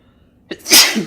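One loud, close sneeze bursts out sharply after a brief quiet moment, with a short breathy tail.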